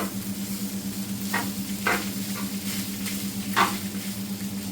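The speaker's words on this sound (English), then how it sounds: "We're going to add the rice in, okay? Start frying straight away." Steady frying sizzle of leftover rice in a pan with a low hum underneath, broken by a few sharp scraping stirs of a utensil.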